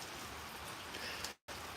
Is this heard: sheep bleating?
no